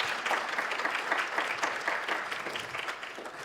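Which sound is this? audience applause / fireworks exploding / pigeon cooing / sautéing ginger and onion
audience applause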